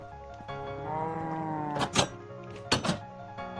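A Minecraft cow lets out a drawn-out, wavering moo at moderate volume, followed by a couple of sharp thuds and clicks from the game.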